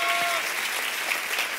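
A church congregation applauds a pastor, a sustained, even round of clapping from a sizable crowd, moderately loud with a faint tone lingering briefly at the start.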